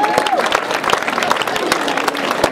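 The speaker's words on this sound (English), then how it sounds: "A big round of applause for Dr." Crowd applause and light cheering greet Dr. Ganesh Krishna at a charity 5k walk kickoff, with brisk, steady clapping and voices mixed in throughout.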